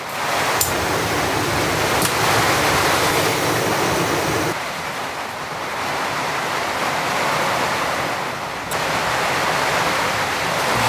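Torrential winter rain hammers a cabin with a dense, continuous roar that shifts in loudness, dipping briefly in the middle before surging back, with no voices.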